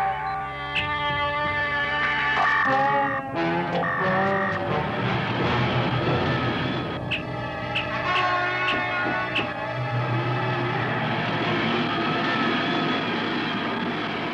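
Spacecraft engines roaring at launch in a 1977 science-fiction film, a loud, steady rumbling drone with whining tonal layers and shifting pitches, sustained throughout without speech.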